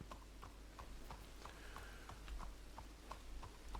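Horse hooves clip-clop at a steady walking rhythm in Red Dead Redemption 2, the evenly spaced, faint hoofbeats sounding over a low ambient background with no talking.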